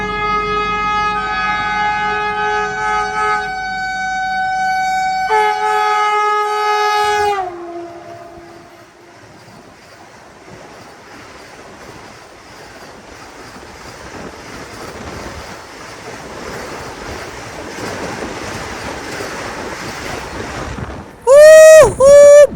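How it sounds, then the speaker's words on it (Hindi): Patna-Howrah Vande Bharat Express passing close by: long, loud two-tone horn blasts open, then a steady rushing rumble of coaches, and the horn sounds again sharply at the end. "ये निकली हमारी पटना हावड़ा वंदे भारत एक्सप्रेस"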